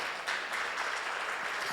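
Audience applause at a Spanish-language talk on technology and social impact, steady dense clapping from a crowd lasting the whole short stretch without a break.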